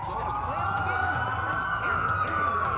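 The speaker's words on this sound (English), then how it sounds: "That's a lot of sirens for a blackout." Several wailing police sirens in a video game rise and fall together during a city blackout, loud and continuous, over a low rumbling backdrop.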